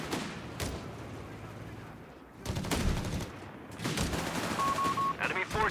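Gunfire in a Company of Heroes 3 battle, with bursts of rifle and machine-gun shots and heavier blasts rising and falling, and a commentator's voice at times over the action.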